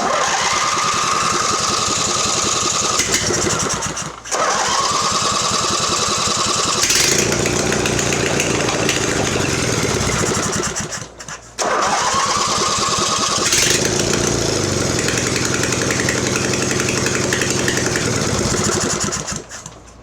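A Mastercraft 46-inch riding mower engine, fuel just added to the carburetor bowl, cranks and catches, then runs loudly and steadily up close, briefly dropping out twice before picking up again.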